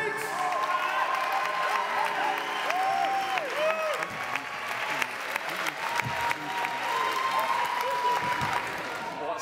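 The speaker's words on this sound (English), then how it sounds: "Applause going as they make their way back to their seats." Applause rolls on at a spoken-word poetry event as performers head back to their seats, steady clapping under a host's talk, with some crowd noise and a brief cheer.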